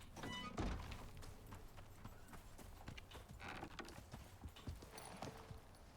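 Horse hooves clip-clop in the survival video game Icarus, a faint, uneven run of dull thuds and taps over a low rumbling background.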